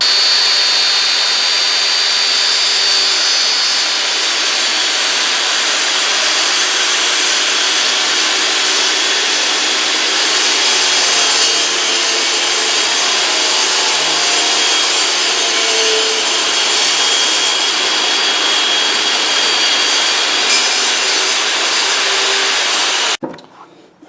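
A power saw cuts 1x12 boards into bookcase shelf pieces with a loud, steady whine that runs nearly unbroken, close by, then stops abruptly at the end.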